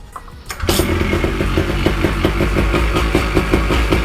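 A new paramotor's small engine starts with a quick pull and bursts into a loud, close, steady idle with a rapid rhythmic putter that runs evenly to the end.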